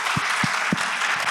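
Audience applause at a Korean church gospel sermon, a brief dense patter of clapping with a few low thumps underneath.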